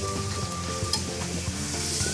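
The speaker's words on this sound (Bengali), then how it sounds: "গরম তেলে চালটা ভেজে নিব।" Rice fries in hot oil in a pan for chicken biryani, giving a steady close sizzle with scraping stirs of a spatula running throughout.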